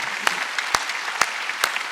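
A Korean church congregation claps during a Wednesday worship service: a few distinct, fairly loud claps spaced roughly half a second apart over a soft background wash of clapping.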